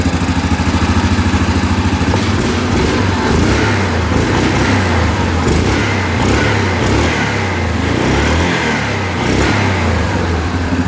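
A freshly started ATV engine, previously reported as not starting, runs steadily at a loud, close idle with a continuous throbbing rumble and slight shifts in revs, no voices heard.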